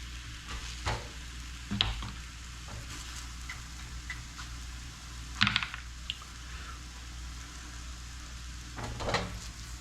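Crepe batter sizzling steadily in a hot pan after being flipped, a soft continuous fry close by with a few faint scrapes and taps, no talking.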